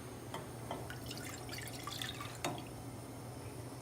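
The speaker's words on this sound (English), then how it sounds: "Pour it into a pot." Pomegranate juice trickles and drips into a cooking pot on a small stovetop burner, quiet splashy patters with a few brighter drops, close by and faint, no talking.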